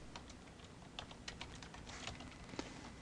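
Faint, quick keystrokes on a computer keyboard tap out in an irregular run of clicks during accounting software data entry, with no one talking.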